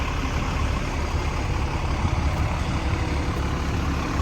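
A heavy engine idles steadily nearby, a constant low rumble with no variation and no voices.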